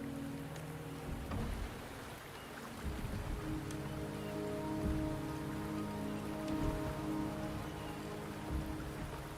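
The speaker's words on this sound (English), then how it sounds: "The rain is subsiding" Steady rainfall in the video game Wuthering Waves, soft patter on surfaces with occasional low rumbles beneath a faint sustained musical drone.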